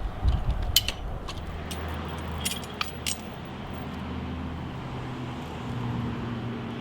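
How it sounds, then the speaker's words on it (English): Bumper jack ratcheting and creaking while pulling a rotted fence post from the ground, with irregular clicks and metallic squeaks over a low steady rumble, fairly close. "One rotten post with a bumper jack."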